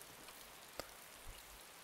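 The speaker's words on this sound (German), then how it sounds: "Ey, wie krass es jetzt regnet." Rain falls in the survival video game DayZ Standalone as a faint, steady hiss, with a couple of soft drop ticks.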